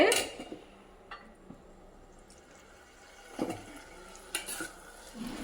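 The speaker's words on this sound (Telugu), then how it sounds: "ఆ చేదంతా పోయే వరకు ఇలా నూనెలో బాగా గోలించుకోవాలండి ఫస్ట్" Fenugreek leaves frying in oil give a soft, low sizzle, broken by a few sharp scrapes and clinks of stirring near the end.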